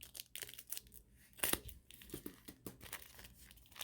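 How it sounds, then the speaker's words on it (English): Scissors cut open the plastic packaging of a keyboard letter replacement bought online, giving close, quiet crinkling and tearing with sharp snips and rustles in an irregular rhythm. "I have my scissors here, and I'm going to go ahead and open this up."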